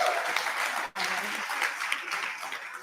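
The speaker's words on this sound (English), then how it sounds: "Let's give them just one more round of applause." Sustained applause from the audience at a CEO celebration gala honoring two women, dense clapping filling the room with a brief dip near the start before it swells back.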